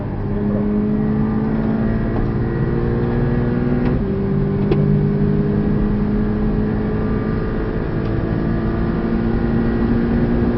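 A Porsche 718 at full throttle on the Portimão circuit, its engine loud and close with a steady rising note, a brief dip near four seconds as it shifts, then climbing again.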